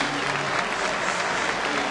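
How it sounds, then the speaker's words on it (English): A baseball stadium crowd at a Cardinals at Pirates game applauds pitcher Zach Duke as he heads into the eighth inning, a loud, dense, continuous wash of clapping and crowd noise throughout. "Great round of applause for Zach Duke as he pitches into the 8th inning here"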